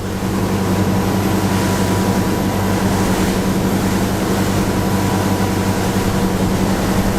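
Steady, loud engine drone from a deep V boat cruising around 20 knots at roughly 2,950 rpm on choppy, windy water, continuous throughout.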